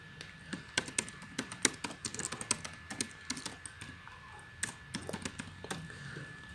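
Fingers type text on a computer keyboard while working in Photoshop: a quick, uneven run of close, crisp key clicks and taps that continues throughout with brief pauses.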